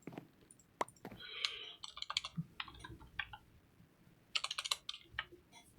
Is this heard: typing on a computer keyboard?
yes